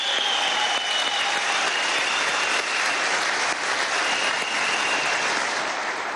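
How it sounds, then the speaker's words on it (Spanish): A packed hall at an international workers' meeting in Venezuela bursts into sustained applause, a thick, loud, unbroken roar of clapping that holds steady throughout with no speech. "¡Aplausos!"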